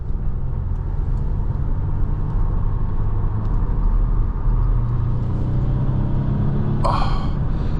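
A 2025 Volvo V60 Polestar Engineered driving onto a highway in Polestar mode, heard from inside the cabin as a steady low engine and road rumble that holds throughout, with a brief sharper noise near the end.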